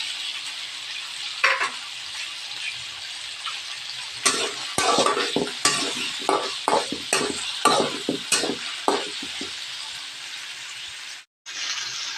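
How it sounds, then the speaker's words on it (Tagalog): Sweet potato pieces going into a cooking pot for Filipino dinengdeng with moringa pods, followed by a run of clattering stirs and scrapes with a light sizzle underneath, moderately close and without talk. "Ilagay na po natin ang kamote."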